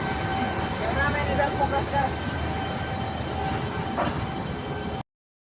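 A train rolls past a spot on the route toward Rourkela, a continuous low rumble with faint metallic squeals, and voices can be heard faintly beneath it before the sound cuts off.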